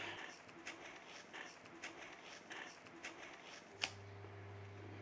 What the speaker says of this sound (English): carry on, peel your apples